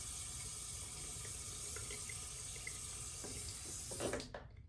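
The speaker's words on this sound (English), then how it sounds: "I might put a little bit more water in there just for the heck of it." Water running into a shaving bowl while lather is being whipped, a steady close splashing rush that swells briefly near the end before cutting off.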